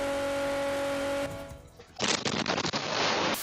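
Explosion and gunfire-like effects from the Anime Adventures video game burst in after a tonal hum, a dense rapid crackle of blasts lasting over a second at close, loud level.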